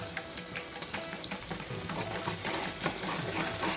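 Onions with ginger garlic paste sizzle and crackle in hot oil while being stirred, with steady frying hiss and scraping sounds close by.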